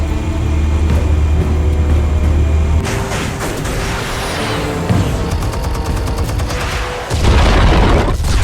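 Explosives detonate in the Batman Telltale Series game, with heavy booms and rumbling blasts rolling through a loud, dense mix, then a final deep thud.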